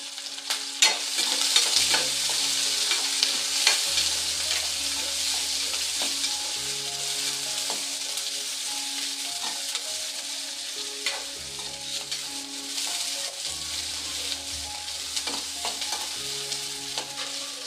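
Curry leaves and onion crackle as they fry in hot oil with browned garlic for Tamil garlic kuzhambu, a loud continuous sizzle with intermittent stirring scrapes, no talking.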